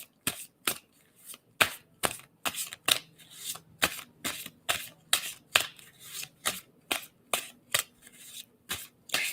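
Tarot cards being shuffled by hand during a reading, a steady run of sharp, crisp riffling snaps repeating about twice a second, close and fairly loud with no talking over it.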